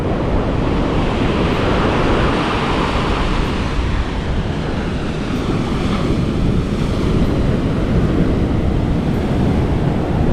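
Ocean surf at Manhattan Beach, Los Angeles, California, rolls in a loud continuous wash with heavy wind buffeting the microphone throughout.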